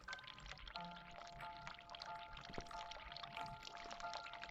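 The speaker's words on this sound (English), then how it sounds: "I can hear the water running." Water runs steadily in a quiet interior scene from the video game The Cat Lady, a continuous soft pouring and trickling wash that stays faint and unbroken with no voices over it.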